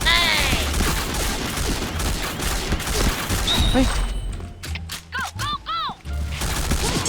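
A G36C assault rifle fires in the online shooter game Point Blank. Dense bursts of automatic gunfire come through loud and close, then drop to a few sparse shots among ringing in-game effects, with no talk.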